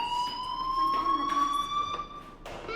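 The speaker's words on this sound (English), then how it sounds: "Hey, do you hear that fire alarm?" A fire alarm rings in the video game Life Is Strange Remastered, a steady electronic alarm tone that holds on continuously without a break.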